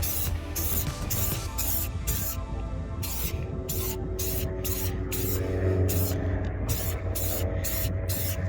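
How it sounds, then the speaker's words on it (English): Repeated bursts of aerosol motorcycle cleaner spray hissing in short, regular pulses over a steady background hum, fairly close. "feel like I'm spray painting it."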